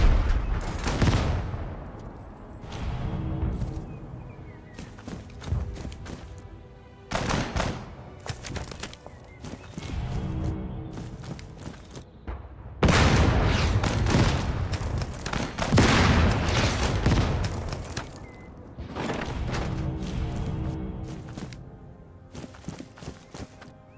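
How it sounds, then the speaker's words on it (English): Artillery and mortar fire in the tank strategy game Total Tank Generals: a dense, continuous barrage of booming blasts and cracking shots layered over each other for a long stretch, with heavy impacts standing out at intervals. "we're going to need our artillery to focus, or our mortars to focus on that grid"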